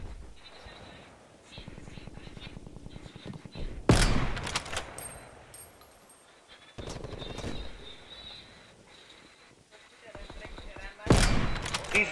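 Automatic weapon fire from the shooter game Black Ops Cold War erupts in three sharp, loud bursts separated by quieter stretches of in-game movement, with voices occasionally chatting in the background.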